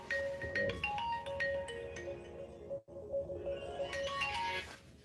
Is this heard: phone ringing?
yes